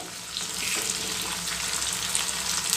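Lengthwise-cut tomato frying in hot oil in a pan for a fenugreek gojju, a dense, continuous hiss and sizzle that holds steady and close throughout, with no voices.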